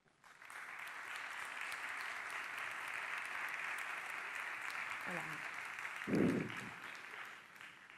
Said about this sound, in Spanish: Le damos un aplauso a Nabil.